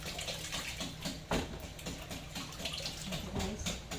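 Water pours into a cooking pot for pancit bihon, a steady, fairly quiet gushing stream running continuously from close by, with no voices.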